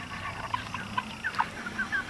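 Small chickens, including a young hen, cluck and peep in short, scattered calls close by, a soft busy chatter with no talking.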